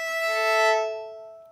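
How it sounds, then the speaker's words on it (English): Two open violin strings bowed together as a sustained double stop, a bright steady dyad that swells then fades over a second and a half, heard alone. "usually a violin's first two strings when played together sound like this."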